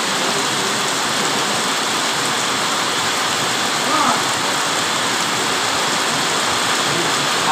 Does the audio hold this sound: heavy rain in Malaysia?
yes